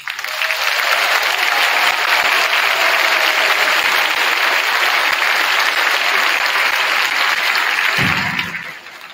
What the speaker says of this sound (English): If we could please recognize him with a round of applause.